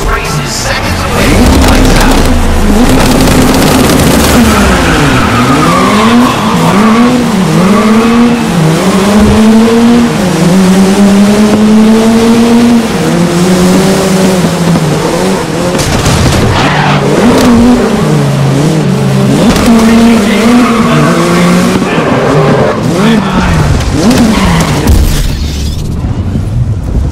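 Ford RS500 Sierra Cosworth Group A race cars in GRID (2019) roar past in a loud, dense pack, engines revving up and down with rising and falling pitch for the whole stretch.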